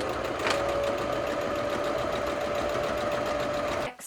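A sewing machine stitches a waistband onto kids' pants in a fast, close, continuous whirring run with a faint steady whine, then stops abruptly near the end.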